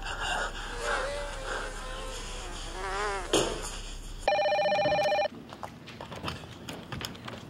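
A telephone rings with an electronic trilling tone in a drama scene, a single burst of about one second following a stretch of buzzing, warbling background sound, then quieter room noise.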